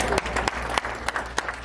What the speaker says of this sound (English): Round of applause from people who got kids?